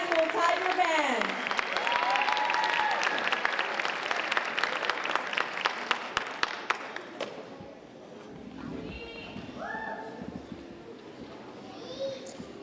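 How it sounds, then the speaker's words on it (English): Audience at a high school spring concert applauds a tiger band, loud clapping with whoops that thins out after about seven seconds, followed by scattered claps and people talking. "big round of applause to the Morton High School Tiger Band."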